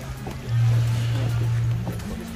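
A speedboat cruising on the sea off Boracay gives a steady, loud motor hum with a rising drone and wash of water and wind, heard up close for a few seconds.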